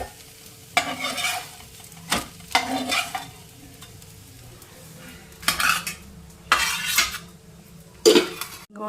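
A millet dosa cooks on a pan while a metal spatula scrapes and clinks against it in several loud, separate strokes. A soft sizzle runs underneath, and no voices are heard.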